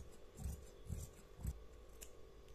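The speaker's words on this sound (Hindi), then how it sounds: "अब हम इसको कटिंग कर लेंगे, कटिंग करूंगी जहां से मैंने निशान लगाया था।" Scissors snip through salwar fabric being cut along marked lines for a child's salwar, three soft, evenly spaced crunchy cuts at close range, fairly quiet, with no talking.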